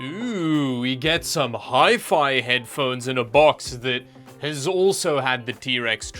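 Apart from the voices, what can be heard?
No everyday noises stand out.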